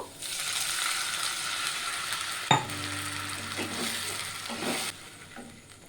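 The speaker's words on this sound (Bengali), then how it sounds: "পেঁয়াজটাকে একটু ফ্রাই করে নেব।" Onion sizzles in a frying pan while cooking a potato snack, a steady crackling hiss with a sharp metallic clank partway through, followed by softer stirring and scraping.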